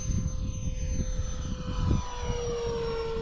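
An FMS A-10 V2 radio-controlled model jet, run on a 5,000 mAh battery, flies past with a steady, loud ducted-fan whine and a rising roar as it comes in low, with no talk.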